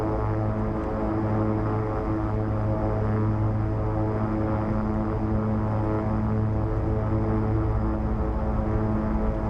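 A Beechcraft King Air 350 turboprop taxis in the X-Plane 11 flight simulator, its engines holding a loud, steady droning hum with constant propeller tones and no talk.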